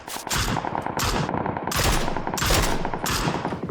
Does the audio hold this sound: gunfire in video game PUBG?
yes